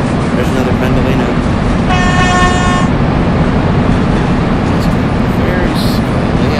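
A Virgin Pendolino 390 train passes in a Train Sim game over a steady loud rail rumble, with a short horn toot partway through.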